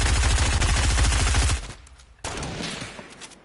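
Rapid automatic gunfire in Fortnite rattles in a fast, loud, close string of shots for over a second, then cuts to a brief hush before a softer burst of noise follows.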